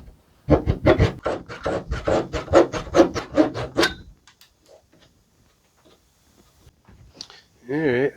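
Rough wood edge of a wooden boat's rub rail being trimmed by hand: about a dozen steady, rhythmic rasping strokes close by, then near silence, with a brief voice at the end.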